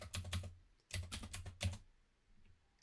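Close, quiet bursts of rapid key presses on a computer keyboard as a password is typed: two clusters of clicks separated by a short pause, then silence.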